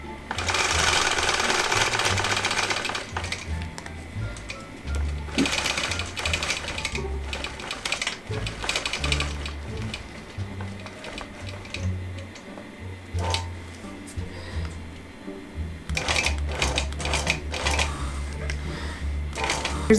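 A longarm quilting machine stitches slowly through a quilt with puddling fabric, a steady close mechanical whir and rapid needle ticking that runs almost continuously, surging louder in stretches.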